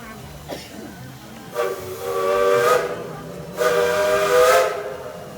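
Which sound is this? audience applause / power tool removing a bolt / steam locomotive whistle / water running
steam locomotive whistle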